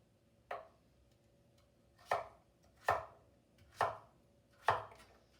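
A knife cuts a butternut squash into chunks with five sharp, separate thunks on a cutting board. The first stands alone, then four follow in a fairly even rhythm, close and clear in a quiet room.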